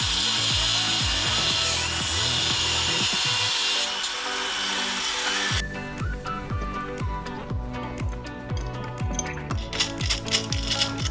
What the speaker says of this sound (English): So what we're gonna do is cut a little bit of the threads off this so we can thread it in further